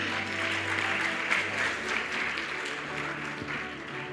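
Audience applause welcoming a guest on stage at a TV education conclave, a steady dense clapping that fills the whole stretch at even loudness, with faint voices murmuring underneath.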